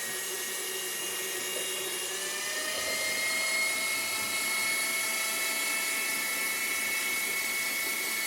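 An electric mixer whips tallow balm with a continuous high whirring drone, steady and fairly quiet, rising slightly in strength midway and running alone without speech.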